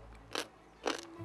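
Two crisp crunching bites into salty, semi-sweet Japanese pickled daikon radish, about half a second apart, close and fairly quiet with no other sound.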